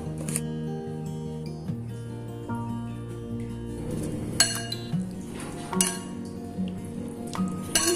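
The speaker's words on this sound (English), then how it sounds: "it is a simple salad, I am going to mix it well" Broccoli salad is tossed in a bowl with clinking and scraping of utensils against the dish, several sharp taps standing out over soft background music.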